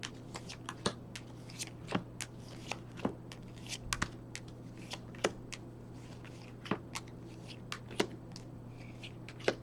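Tarot cards being shuffled by hand, close and fairly quiet, with soft riffling and regular sharp snaps of the cards over a low steady hum, and no voices.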